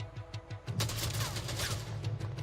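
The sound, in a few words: machine gun fire in a video game trailer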